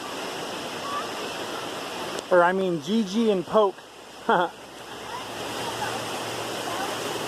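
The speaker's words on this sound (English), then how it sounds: "Look how swollen the river is." A swollen river in Damascus, Virginia rushes past in a steady, broad roar heard from a bridge, with people briefly talking over the constant flow partway through.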